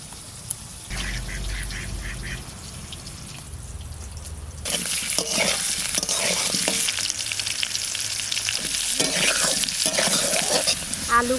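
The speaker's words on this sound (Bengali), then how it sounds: "আলুগুলো আমি লাল করে ভেজে নিচ্ছি" Potatoes frying in a pan until browned, a continuous sizzle that swells louder about halfway through, with the scrape and clatter of stirring over it.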